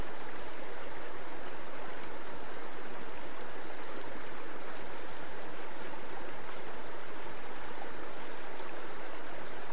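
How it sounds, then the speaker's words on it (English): Shallow stream water rushes over the coarse bed of a riffle, giving a constant, full wash of turbulent flow with no pauses or voices. "A riffle is a shallow section of stream where the water flows over coarse streambed particles that create mild to moderate surface turbulence"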